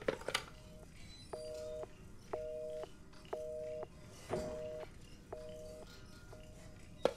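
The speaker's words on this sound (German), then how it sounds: "Hier ist wieder ein Telefon, das wird wahrscheinlich wieder ringen." An old telephone in the Resident Evil 7 video game rings in repeated electronic bursts, about six evenly spaced rings with short pauses between them, fairly clear against a quiet background.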